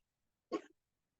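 A single short sneeze-like burst in a quiet classroom, one brief, faint explosive puff with silence around it.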